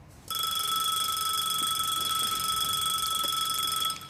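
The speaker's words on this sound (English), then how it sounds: "That's the alarm." An alarm clock rings loudly and continuously for about four seconds, a steady unbroken electronic bell that starts abruptly and cuts off at the end.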